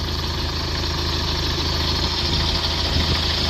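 A Subaru Forester 2.0 diesel engine idles steadily at close range during a DPF cleaning, a low even rumble with a faint mechanical hum and no change in pace.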